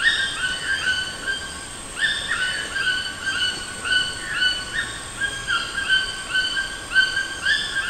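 A black tinamou, an Amazon rainforest bird, gives clear whistled calls in repeated phrases over roughly eight seconds, fairly near and distinct over a soft background hiss.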